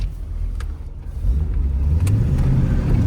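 A 1965 Chevrolet Corvette with a manual stick shift pulls away, its engine rumbling low and rising steadily as it accelerates, heard from close by without any talk.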